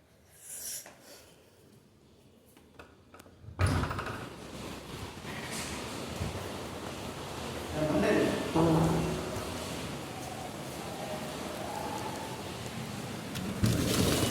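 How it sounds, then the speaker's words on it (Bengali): Heavy rain pours down in Karnataka, a dense steady roar of water that starts abruptly after a quiet few seconds and continues loudly to the end, with someone talking over it. "বৃষ্টি।"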